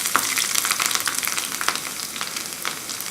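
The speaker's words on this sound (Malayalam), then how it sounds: "ഇനി കടുക് താളിച്ച് ചേർക്കാം." Mustard seeds spit and pop in hot oil while tempering for a beef curry, a close, continuous crackle full of sharp little bursts.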